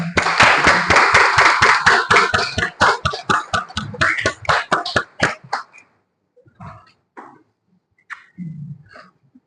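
Audience applause for lawyers at a Brazilian bar commission session on violence against lawyers: a burst of dense clapping for about five seconds, thinning to scattered claps, then a few faint coughs and stray noises.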